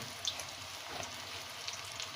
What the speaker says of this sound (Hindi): ये हमारे बड़े ज़बरदस्त से पकोड़े फ्राई होंगे